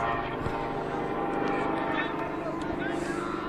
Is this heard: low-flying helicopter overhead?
yes